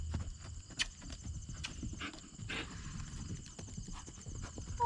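Horse cantering on a circle, hooves thudding in an even three-beat clip-clop rhythm at close range, with a faint snort and a little background noise.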